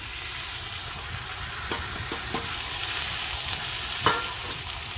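Green chillies, tomato and ground cumin paste fry in a pan with a steady broadband sizzle, punctuated by a few brief stirring scrapes and one louder clack near the end.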